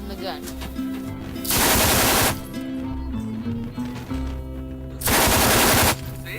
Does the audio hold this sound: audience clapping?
no